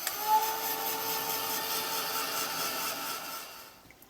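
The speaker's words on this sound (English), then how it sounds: "I'll just give this a quick blast off with my heat gun" A heat gun blows over painted cardboard, a steady whirring hiss with a faint tonal whine, close and constant, that winds down at the end. No one speaks.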